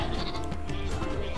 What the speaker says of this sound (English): Let me like kill all but one sheep.